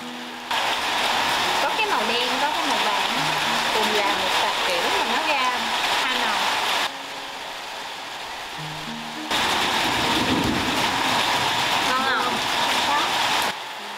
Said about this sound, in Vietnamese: mưa lớn này